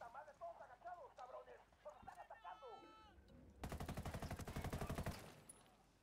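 Rapid automatic gunfire in the tactical shooter Ghost Recon or Rainbow Six, a fast burst of about a second and a half following quieter talking over game sounds, faint and distant in the mix.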